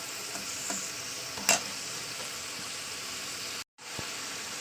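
Potatoes and pointed gourd go into hot oil in a pan with okra, a steady close sizzle of frying with stirring scrapes, one sharp clatter partway through and a brief break near the end.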